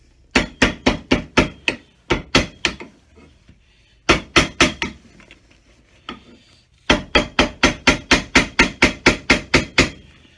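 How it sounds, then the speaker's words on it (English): A hammer tapping a leather welt onto a cowboy boot held on a last, repeated quick sharp knocks in bursts of about five to twelve strikes separated by short pauses, close and crisp. "give it a tap with a hammer"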